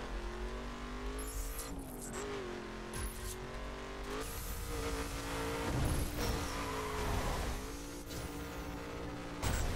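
Engine drone of an American car driven in the racing video game The Crew, a steady revving tone with shifting pitch and occasional tire noise, loud and continuous with no talk over it.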